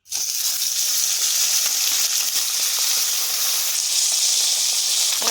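Tilapia fish fries in hot oil in a pan, a loud, steady, close sizzle that holds throughout with no talking.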